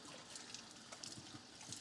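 Tap water runs steadily into cups at a kitchen sink during hand dish-washing, a soft continuous splashing trickle with no voices.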